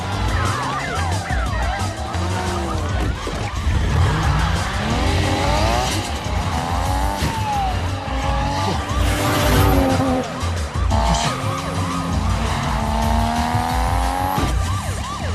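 Cars racing past with tires squealing and skidding, engines roaring loudly and continuously over a busy, dense mix with faint voices.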